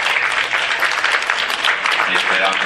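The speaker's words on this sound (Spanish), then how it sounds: "vamos a darle un aplauso primero" Church audience applauding, a dense continuous burst of clapping across the whole stretch at close to mid distance, with no talk over it.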